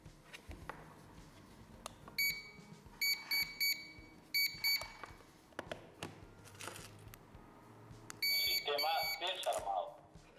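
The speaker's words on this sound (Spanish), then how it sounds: "si el sensor tiene una detección, sí hará que salte la alarma" A home security alarm goes off after a detector senses something, giving repeated bursts of shrill electronic beeping in groups. A person talks throughout, and the alarm sounds over the speech.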